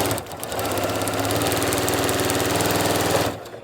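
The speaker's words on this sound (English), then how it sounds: "We're just going to start sewing here." A Janome Continental M7 sewing machine stitches in a fast, steady mechanical chatter, close and loud, running continuously for about three seconds before stopping abruptly.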